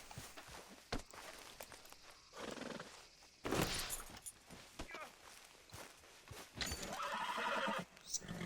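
Horses neigh and whinny repeatedly in the Red Dead Redemption 2 video game, with clip-clop hooves and footsteps among bursts of activity and voices speaking over the scene.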